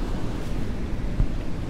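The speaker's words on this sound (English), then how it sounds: "to try to get some waves" Ocean waves wash against a rocky shore in light rain, a continuous close rush of surf with wind buffeting the microphone and a few brief bumps.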